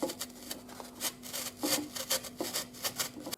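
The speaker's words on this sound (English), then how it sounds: "I just had to cut through that with the coping saw" A coping saw works through a layered panel of fiberglass, foam and plywood, making a steady rasping back-and-forth stroke at close range, with a faint constant hum underneath and no voices.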